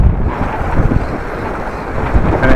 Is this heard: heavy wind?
yes